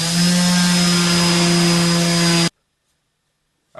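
A vibrating power sander sands raw wood, giving a loud, steady, close buzz with a strong constant hum that runs unbroken for about two and a half seconds and then cuts off abruptly into silence.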